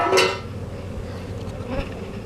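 Honey bees buzz steadily throughout a hive inspection, a dense close drone with a few louder passes near the microphone and occasional faint knocks, no talking.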